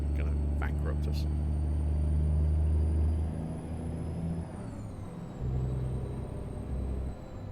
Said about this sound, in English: But I do love the sound this truck makes.